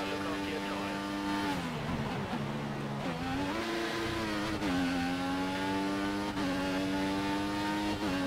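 GP2-class race car engine in F1 2014 accelerating out of the pit at the Russian Grand Prix, a loud, close high-pitched whine that climbs and drops through gear changes, with faint tire noise.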